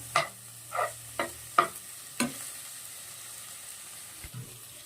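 Chicken samosa filling is stirred in a hot pan: a few sharp scraping strokes land in quick succession over a faint sizzle, then trail off into near quiet.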